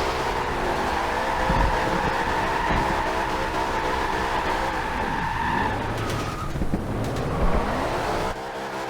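A 1975 Ford Bronco Ranger sliding in a drift, engine roaring steadily with tire noise and skidding sweeps, loud and continuous, the pitch shifting as the truck swings around.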